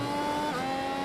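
Mercedes-Benz Formula 1 race car engine in iRacing at Suzuka for the Japanese Grand Prix, a steady high-pitched whine held at constant loudness for about a second, no talk.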